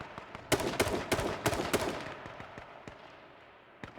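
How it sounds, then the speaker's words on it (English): Gunfire in the battle royale video game H1Z1 comes as a rapid burst of sharp, loud shots, then fades to scattered quieter pops, with no talking over it. "The Nifs are now firing on Bacon."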